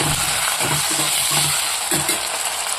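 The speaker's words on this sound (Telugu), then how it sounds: "టమాటా ముక్కలు కూడా వేసుకొని అటు ఇటు కలవటాలండి" Tomato pieces being stirred in a sizzling pan for ginger chutney, a loud steady frying hiss throughout with soft rhythmic scrapes of the spoon moving them back and forth, close and continuous.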